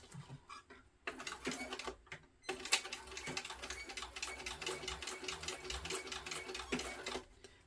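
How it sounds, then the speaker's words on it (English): A sewing machine top-stitching accent pieces on a backpack an eighth of an inch from the edge: fast, steady mechanical needle chatter that starts, pauses briefly, then runs on at close range. "I'm going to top stitch on the accent pieces here."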